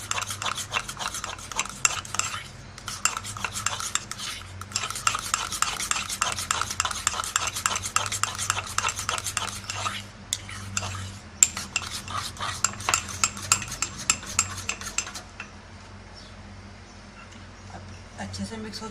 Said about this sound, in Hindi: अब अच्छे से हम इसको मिक्स कर लेंगे।